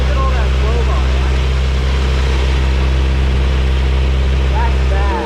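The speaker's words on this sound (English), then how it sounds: "So if you pull the oil cap off while it's running, look at all that flow on it." Drift truck engine idling with the oil cap pulled off while running, a loud steady low rumble and drone with a constant hum, close up and continuous.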